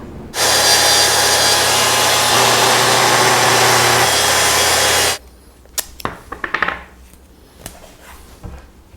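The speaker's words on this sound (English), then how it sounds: "This is a really, really good tool for cross-cutting plywood like this." A power saw cross-cuts a plywood sheet in a shop, one loud, close, sustained whirring cut of about five seconds, followed by quieter knocks and clatter as the pieces are handled.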